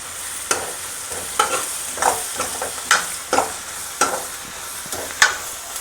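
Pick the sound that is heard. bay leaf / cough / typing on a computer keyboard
bay leaf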